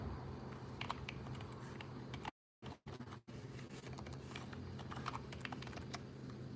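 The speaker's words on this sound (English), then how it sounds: "Let me type this in." Keys clatter softly and quickly on a computer keyboard in a quiet room, with brief silent gaps partway through.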